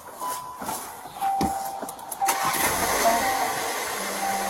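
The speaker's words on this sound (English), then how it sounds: "Should I shut the car off?" A car's engine runs close by, its steady hum rising and settling across the stretch, with no voices heard.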